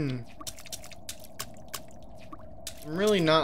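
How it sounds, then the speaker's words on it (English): Wet squishing and small splashing noises from the video game Babbdi come as a string of soft, evenly spaced drips and squelches, followed by a voice speaking at the end. "I'm really not liking these, like, squish noises, these little splashes"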